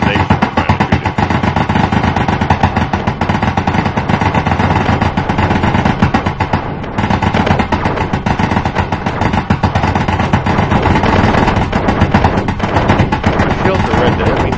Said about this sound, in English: we'll maybe just gonna keep trying to shoot the station